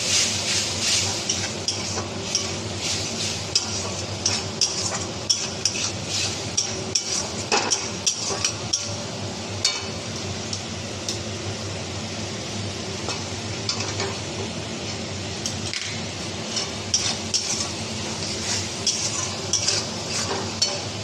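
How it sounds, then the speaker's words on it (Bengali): Mustard paste loosened with a splash of water and sautéed in a pan, a steady sizzle running throughout with frequent sharp utensil scrapes and taps against the metal. "সেটাকে একটু জল দিয়ে দিলাম, একটু কষে নিই"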